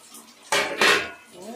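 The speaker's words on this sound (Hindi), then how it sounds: "वही ये प्याज और शिमला मिर्च भून रहा है" Onions and capsicum frying in a kadai pan, heard as two loud bursts of sizzling and scraping close by, separated by a quieter pause.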